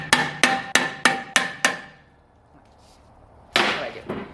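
A hammer gives a series of six sharp metallic taps at a steady rhythm to the rear brake drum of a second-generation Toyota Tundra, followed by a pause and then a louder clanging hit with ringing decay.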